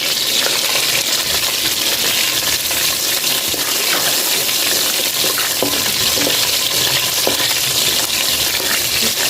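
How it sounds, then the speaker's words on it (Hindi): Whole spices sizzle in hot desi ghee in a kadai, a loud, dense, continuous frying crackle close up with scattered small pops and a few metallic taps. "अब हम डालेंगे इसमें साबुत मसाले।"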